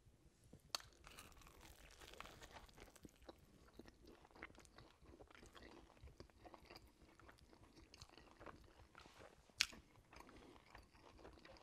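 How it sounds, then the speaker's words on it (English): Someone bites into and chews a Puerto Rican jibarito sandwich of tender steak, crispy plantain and lettuce. The close, quiet, crunchy mastication comes in irregular bursts with a couple of sharper crunches and no talking. "I can't wait any longer. I need to take a bite."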